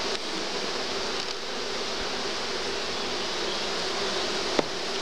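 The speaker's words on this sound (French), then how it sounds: "il y a trop d'abeilles dessus" Honeybees from a swarm hang on a hive frame, giving off a steady, dense hum that stays even and close throughout, with one brief sharp tap near the end.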